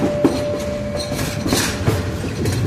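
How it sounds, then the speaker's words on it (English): A train rumbles past close by on the rails, with steady rolling noise, clicking wheels and a faint high whine. "I think I just heard a train"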